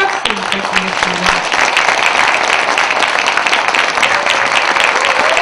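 Sustained applause from a crowd at a Korean book launch event for an author, steady and dense throughout, with a brief voice near the start.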